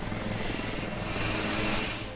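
An attack helicopter flies steadily nearby, its dense broadband rotor and engine roar holding loud and unbroken throughout.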